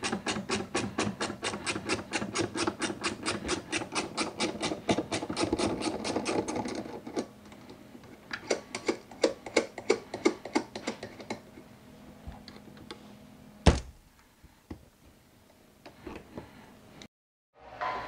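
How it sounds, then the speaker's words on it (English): Rapid mechanical ratcheting while a jam nut on a cable is loosened, dense regular clicks that stop, resume in shorter bursts, then give way to a sharp clunk and scattered faint taps. "I'm going to break this jam nut free."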